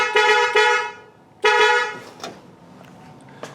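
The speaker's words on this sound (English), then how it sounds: "It's not as good as the old original horns that were like really deep tone, but that will work." New aftermarket horns on a 1953 Buick honking close and loud: two quick toots, a pause, then a longer blast, followed by quieter background noise.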